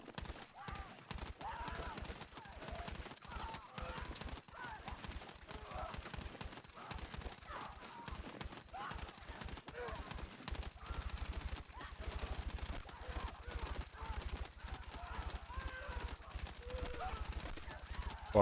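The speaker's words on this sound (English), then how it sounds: "So tap firing like this is going to be better." Rapid bursts of tapped gunfire from a rifle in the shooter game Battlefield 6, short clustered shots repeating steadily over a low rumbling bed, with a heavier thumping stretch partway through.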